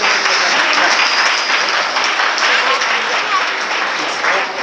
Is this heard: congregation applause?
yes